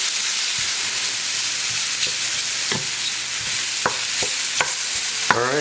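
Chicken marsala ingredients cooking down in an oiled pan, a steady broad sizzle with occasional stirring clicks and scrapes of the utensil against the pan, close and constant throughout.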